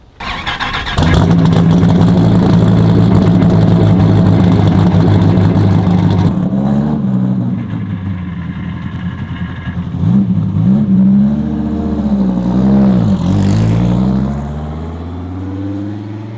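A 2,500-horsepower Dodge Viper engine revs and pulls while driving, starting with a loud sustained roar, then shifting through rising and falling revs over several gear changes. The engine sounds close and dominates the recording with no talking.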